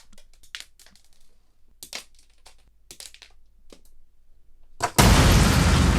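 Lego Microfighter tile shooters flicking small tiles at a Lego battle droid, a series of sparse, sharp plastic clicks and snaps spread over several seconds, followed by a sudden loud burst of broadband noise at the end.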